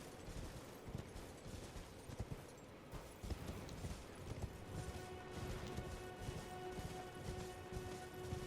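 Horse hooves clip-clopping at a steady gallop while riding through the video game Elden Ring, a continuous rhythmic patter of hoofbeats over faint game ambience and occasional clatter.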